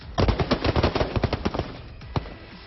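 Rapid bursts of gunfire from a military exercise in the Bakloh valleys, a dense volley of sharp cracks rattling off in quick succession, then a few scattered final shots echoing in the open.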